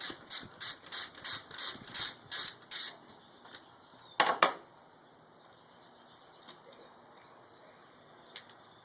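Hand ratchet removing a coil mounting bolt on a Twin Turbo 300ZX: a close, regular run of about ten ratcheting clicks, then a sharp metallic clatter and a few faint ticks.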